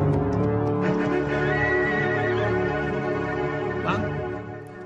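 A horse gives a drawn-out whinny with a couple of shorter calls, loud and close, while a voice speaks faintly under it.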